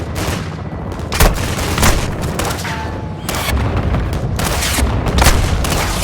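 Loud gunshots and booming explosions from Call of Duty: Modern Warfare 2 campaign combat, sharp close cracks repeating over a steady roar of battle noise.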